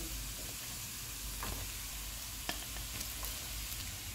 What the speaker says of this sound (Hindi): इनको 2 मिनट तक फ्राई करेंगे।